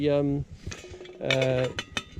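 A metal camping cooking pot is handled outdoors and gives several sharp clinks and clanks. These ring loudly and briefly, with short ringing tones between them.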